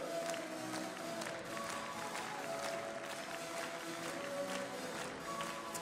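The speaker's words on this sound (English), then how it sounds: "please welcome with big applause the skaters of the first group" Applause from the audience fills an ice hall at a figure skating competition, a faint, distant, steady patter of many hands blended with crowd murmur and occasional cheers.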